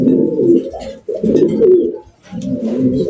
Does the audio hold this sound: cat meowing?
no